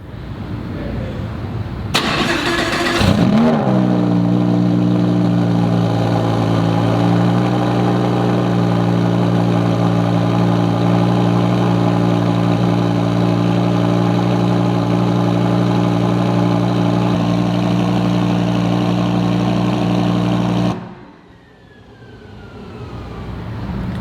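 The V10 engine of a 2015 Lamborghini Huracan LP610-4 coupe fires up with a brief loud rev burst, then settles into a steady, deep, close idle that holds for many seconds before cutting off abruptly.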